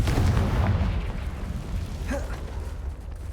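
A fire blast spell from Hogwarts Legacy fires off as a loud, boomy burst up front that rolls into a rumbling decay, with a faint crackle trailing near the end.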